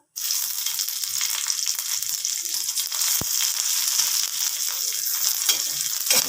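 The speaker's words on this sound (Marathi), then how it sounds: "आता मी याच्यामध्ये दोन हिरव्या मिरच्या ॲड करणार आहे" Two green chillies frying in hot oil with coriander seeds while a stuffed brinjal dish is being made, giving a steady close bright sizzle with faint crackles and no talking.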